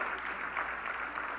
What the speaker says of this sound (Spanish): Denle un fuerte aplauso al Señor nuevamente.